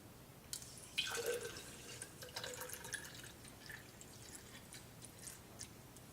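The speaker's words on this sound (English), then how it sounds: "Okay, we're going to go ahead and fill the bottle up." Tap water trickles and drips into a hydrogen water bottle, with a faint splash at the start followed by soft, irregular dribbling and drops close by.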